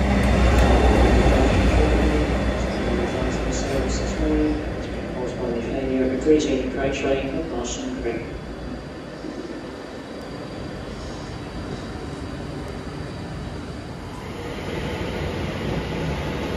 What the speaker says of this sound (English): Here comes the rescue locomotive.